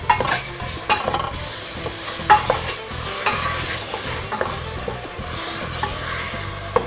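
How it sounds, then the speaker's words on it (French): Salt, pepper and cinnamon being stirred into a white tajine sauce: a continuous bubbling sizzle with regular scraping and clinking strokes of a utensil against the pot, close and fairly loud. "Et on vient remuer le tout."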